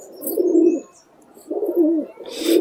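Murshidabadi pigeons coo in close, repeated low rolling phrases, three bursts separated by short pauses, loud and clear with no talking.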